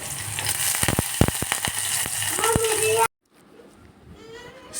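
Onions, cumin, mustard seeds and curry leaves frying in a pan, a steady close sizzle with sharp crackles and pops for about three seconds before cutting to near silence with a faint hiss.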